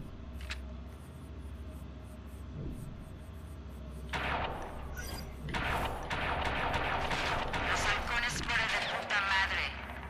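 Watch Dogs 2 game gunfire starts after a quiet opening, then erupts into sharp shots and rattling bursts through the second half, with a voice talking underneath.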